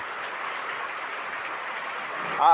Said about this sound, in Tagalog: grabe naman lakas ng ulan